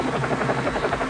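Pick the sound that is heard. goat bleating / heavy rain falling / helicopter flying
helicopter flying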